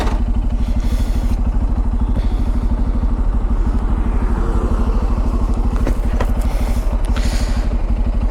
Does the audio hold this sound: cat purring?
no